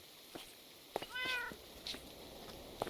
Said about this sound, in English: we have a little stray cat, which we've now tamed